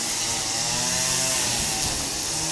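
A string trimmer's engine whines steadily nearby outdoors, a loud continuous buzzing drone with slight rises in pitch.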